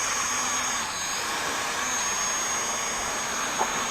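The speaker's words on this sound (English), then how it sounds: "Start the motors, you push down and out. Then give a little throttle." Hubsan X4 Desire H502S drone motors whir at a steady, high, buzzing pitch, sounding close and continuous throughout, with a faint tap near the end.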